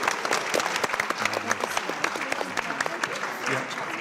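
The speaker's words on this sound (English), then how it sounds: "One round of applause for our winners as they leave the stage." A conference audience applauds steadily as contest winners leave the stage at an official closing plenary, dense continuous clapping from a crowd with faint voices mixed in.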